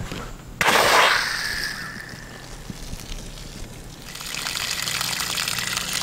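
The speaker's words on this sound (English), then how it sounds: "turn the water on to the outside hose" Water from an outside garden hose at a homestead farmhouse, starting with a sudden gush that settles into a steady running trickle, then a brighter hissing flow near the end, close by.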